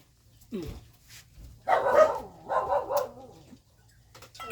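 A dog barks near a field hut during an outdoor meal, giving a few short barks mixed with a person talking nearby.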